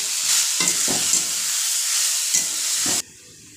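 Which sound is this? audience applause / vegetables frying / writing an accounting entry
vegetables frying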